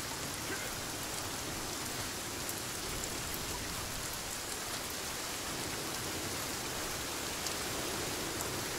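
Light rain in the survival game Sons of the Forest, a steady soft hiss of sprinkling drops through a forest setting, continuous and even for the whole stretch with no talk.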